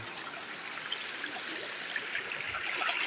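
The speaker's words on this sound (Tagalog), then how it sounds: "Ito nga pala ang ilog ng Pansol. Dito po sa Lucena City." River water flows steadily along the Pansol river in Lucena City at night, a continuous, soft, even rush with no voices over it.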